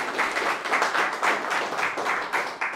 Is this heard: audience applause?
yes